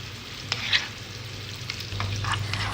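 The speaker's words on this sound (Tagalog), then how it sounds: "Ilagay ko na guys ang marinate na shrimp." Marinated shrimp tipped straight into a hot pan of vegetables for honey stir-fried shrimp, giving a steady close sizzle with a few light clinks and stirring scrapes, the frying growing slightly louder near the end.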